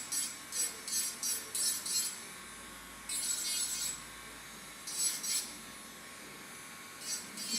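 A Melodysusie electric nail file smooths down raised areas on fingernails, its thin high whine coming in short repeated bursts with brief pauses between passes, quiet and close.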